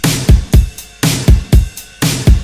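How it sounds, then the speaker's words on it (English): Indie pop drum loop built in FL Studio with overdriven drums: a punchy, repeating kick-and-snare pattern with bright hits, looping about every second, loud and alone. "And altogether the drum loop sounds like this."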